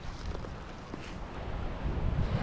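Steady strong storm wind near the sea rushes and buffets against the microphone, a low roaring gust that swells louder toward the end.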